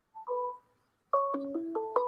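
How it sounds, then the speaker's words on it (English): A phone ringtone rings from a computer, a short two-note chime followed by a brighter, stepping melodic phrase, clear and moderately loud with no talk over it. "It's ringing on my computer somewhere."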